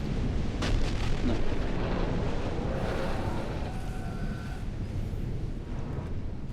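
A bomb blast in the video game Mass Effect 3 rolls out as a loud, broad rumbling boom with a long low-end tail, heard alone without talk.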